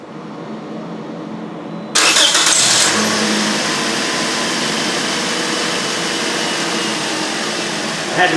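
A 2013 Toyota Corolla 1.8L engine cranks and fires up abruptly, then settles into a steady, loud idle that runs on without a break, up close.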